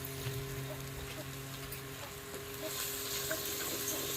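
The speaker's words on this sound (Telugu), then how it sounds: "మంచి ఉడకాలి నూనెలో" Bitter gourd (boda kakarakaya) curry with ground green chilli paste and salt sizzles and crackles steadily in hot oil in a pan, a continuous close frying hiss with a faint low hum beneath it.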